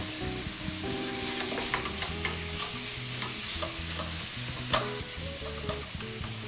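Pork stir-frying in a wok with ginger, garlic and chilies, a steady loud sizzle with scraping stir strokes and occasional clanks of the utensil against the pan, no voices.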